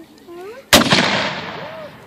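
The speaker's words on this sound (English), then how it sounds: "Firing by file. 3 rounds. Commence." A single sharp, loud musket shot from a Civil War reenactment line firing by file cracks out, followed by a long rolling echo, with a brief voice just before it.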